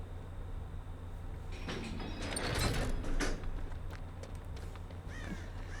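An exit door in Dead by Daylight opens with a swelling mechanical grind and rumble that peaks midway, then eases off into softer rattles.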